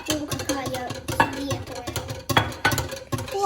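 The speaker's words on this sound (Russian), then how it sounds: "Все, хорошенько размешиваем это все." Batter made with milk is stirred in a bowl during breakfast cooking, with a utensil clinking and scraping against the bowl in quick irregular strokes, close and moderately loud, and faint voices in the background.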